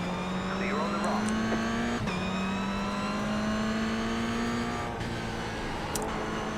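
Toyota GR86 race car engine held at steady high revs through a race, a loud sustained drone rising in pitch, with brief dips at gear shifts and faint tire noise underneath.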